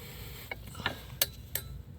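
A ratchet torques engine mount bolts on a 2011–2023 Dodge Charger 3.6L Pentastar, giving a few faint, quick clicks spaced through two seconds over low background hum.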